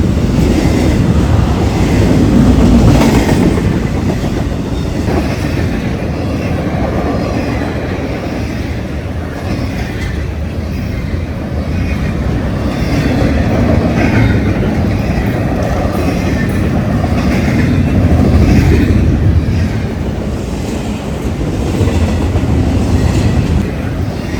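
A Norfolk Southern freight train rumbles steadily past for a long stretch on the Lehigh Valley line, low heavy rolling noise swelling and easing with faint rattling of cars.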